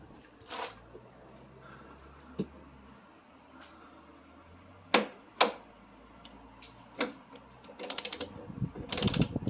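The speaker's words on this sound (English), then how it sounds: "This would be the time where I grab like the 3/8 drive torque ratchet and do this." A 3/8-inch drive torque ratchet clicks while front suspension bolts on a 1991 Toyota MR2 are tightened, giving scattered sharp ticks and pawl clatter, then a faster run of ratcheting near the end.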